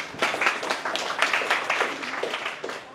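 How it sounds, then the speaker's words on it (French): An audience gives a speaker a short burst of applause, the hand-claps dense, close and fairly loud for a few seconds. "Il faut lui donner du courage, il faut l'applaudir."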